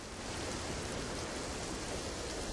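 Heavy monsoon rain pours down in Surat after six straight days of downpour, a dense, unbroken hiss of water drumming on surfaces, steady and uniform with no voices.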